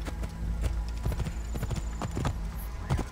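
Horse hooves clip-clop steadily at a walking pace, close by, with occasional faint speech and soft background music, in the video game Assassin's Creed Origins.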